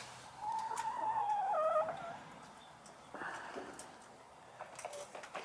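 Backyard chickens, including a lavender Buffington, clucking and warbling close by, with a drawn-out rising and falling call followed by scattered shorter clucks and scratchy movement.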